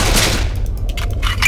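Rapid bursts of gunfire in the zombie shooter SAS Zombie Assault 4, loud and close, with repeated shots through the whole clip and no talk.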